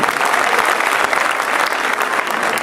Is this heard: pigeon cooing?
no